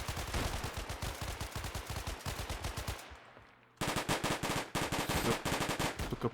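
Rapid bursts of gunfire in the pre-alpha game ShatterRush, automatic weapons rattling in dense volleys, a brief lull, then another loud stretch of sustained shooting.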